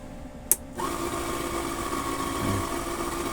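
A homemade mini lathe built from scrap iron, driven by a Canon printer motor, starts with a click and then runs with a steady mid-pitched electric whine and hum that holds level to the end.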